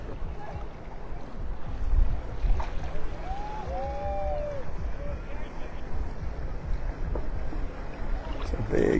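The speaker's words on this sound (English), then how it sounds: "a lot of boats out here" Open-water ambience off Delnor-Wiggins beach in North Naples, Florida, with a steady low rumble of boat motors, including a party boat, and lapping water, a faint whistle-like tone drifting through the middle.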